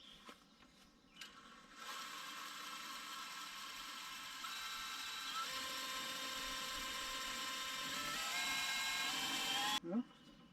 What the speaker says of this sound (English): So now all we have to do is tighten this nut on the bottom of the bolt